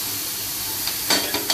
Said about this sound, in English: let us roast our onions